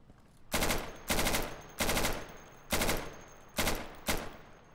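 Automatic rifle fire in the tactical shooter Insurgency: six loud, close bursts of rapid full-auto shots, each lasting about a third of a second, separated by short pauses with faint background ambience.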